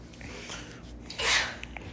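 A single sharp sneeze bursts out loudly partway through, brief and close, against a quiet indoor background with a few soft clicks before and after.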